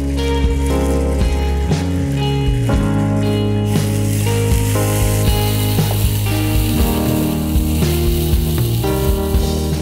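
Ginger garlic paste sizzles loudly in a hot pan while cooking a pomfret roast, a steady crackling fry with scattered clicks of stirring throughout.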